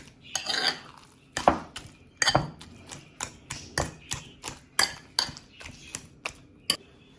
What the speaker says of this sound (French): On va l'écraser bien avec la fourchette.